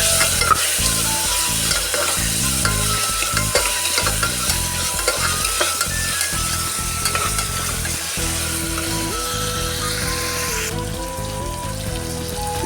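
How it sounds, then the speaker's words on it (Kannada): Chopped tomato frying in a pan for rice bath is stirred with a spoon, giving a busy close sizzle broken by regular scraping strokes, ending in a softer hiss. "ಇದನ್ನು ಕೂಡ ಚೆನ್ನಾಗೆ ಮಿಕ್ಸ್ ಮಾಡ್ಕೊತೀನಿ"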